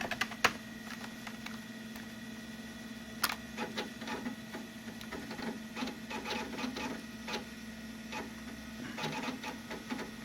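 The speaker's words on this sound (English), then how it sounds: "And yes, hard drives used to sound that way." A Macintosh SE hard drive runs steadily, giving a constant hum with a stream of faint, irregular clicks and ticks layered over it, heard up close with no talking.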